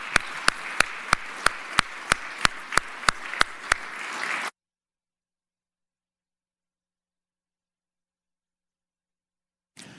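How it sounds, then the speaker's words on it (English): In the Virginia Senate chamber, a round of applause comes through as a string of about a dozen sharp, evenly spaced claps over roughly four seconds, then sudden silence. "Let's give him one more round of applause."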